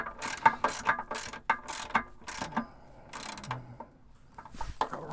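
A hand ratchet tightening rocker guard bolts on a Jeep JL, rapid close clicking bursts in short repeated strokes with brief pauses between them, loud and alone.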